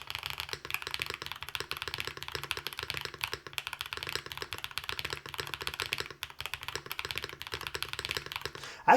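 Mechanical keyboard with foamy-sounding keycaps and spacebar being typed on steadily, a dense run of soft, muted keystrokes close up, with no talking.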